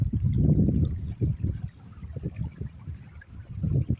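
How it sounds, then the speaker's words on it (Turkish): A small stream near Çakmak Mountain, partly iced over in cold weather, trickles and gurgles softly nearby in uneven low bubbling pulses, with no talk over it. "Burada küçük bir dere geçiyor."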